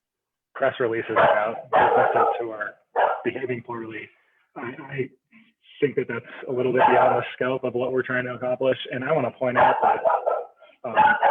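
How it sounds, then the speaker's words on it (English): During a county board meeting held online, a dog barks in short bursts between and under a man's continuous speech, faint and in the background. "sorry for my dog, you guys."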